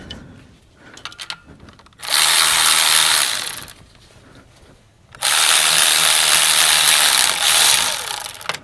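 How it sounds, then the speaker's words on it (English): A ratchet removes bolts on a GM 6.5L diesel Stanadyne fuel injection pump, with a few short clicks and then two long, fast, buzzing runs, close and loud, separated by a pause. "ratchet them off."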